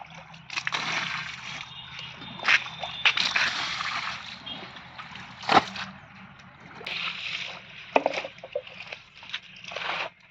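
Water sloshes and splashes over hot batik-dyed cloth in a workshop, in irregular bursts of pouring and squelching with brief pauses, moderately close.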